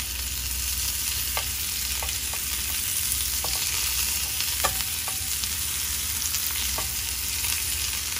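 Scallops pan-frying in a hot pan give off a steady close sizzle, with a few small crackles and pops scattered over the continuous hiss.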